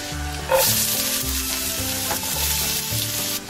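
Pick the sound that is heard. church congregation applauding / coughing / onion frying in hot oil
onion frying in hot oil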